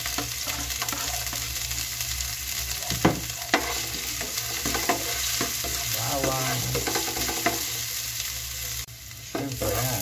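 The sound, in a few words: onion and garlic frying for binagoongan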